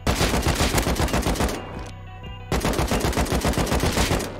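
Rapid automatic gunfire in the survival game Rust, loud and close, with dense repeated shots for about a second and a half, a brief pause, then another sustained burst of fire.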